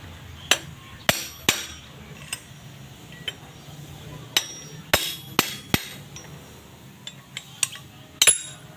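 Hammer tapping a gear onto the crankshaft of an air-cooled diesel engine, irregular sharp metallic strikes, some single and some in quick pairs, close and distinct against a quiet background.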